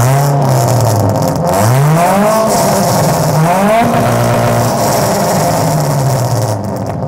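A car fitted with a 4-1 extractor exhaust and custom straight pipe revs several times, loud and close, its engine pitch climbing and dropping between blips before settling into a raspy idle.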